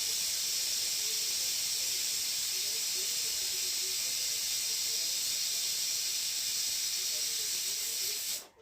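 A pressure cooker cooking rice and dal vents steam in one loud, unbroken hiss that lasts several seconds and then cuts off abruptly, with no voices.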